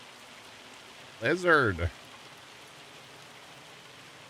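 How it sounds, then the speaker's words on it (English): Hail falls in Farming Simulator 25 as a steady, soft hiss of pattering ice that runs the whole time, briefly overlaid by a single spoken word. "I want to fast time just a hair to get through the hail, because I'm not trying to play farm sim in the hail"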